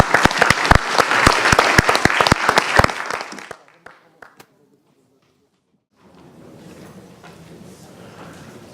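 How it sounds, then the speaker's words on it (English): A seminar audience on diplomacy in the digital age applauds loudly and steadily for about three seconds, then the clapping dies into a few scattered claps and silence before a soft room murmur returns. "I think a big round of applause is well deserved."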